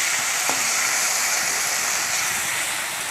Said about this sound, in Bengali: এখন দিয়ে দিচ্ছি অল্প একটু জল।